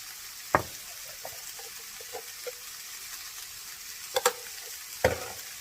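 Onions frying in a pan with salt and turmeric added, a soft steady sizzle under a few scattered scrapes and clacks of stirring, quiet and without talk.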